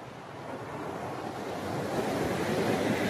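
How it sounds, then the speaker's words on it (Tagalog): Ocean waves wash onto the shore at Caramoan Island in a steady, broad roar that swells slightly louder toward the end, with wind buffeting the microphone and no voices. "Ayan, ito yung alon guys."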